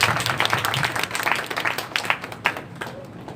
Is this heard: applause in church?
yes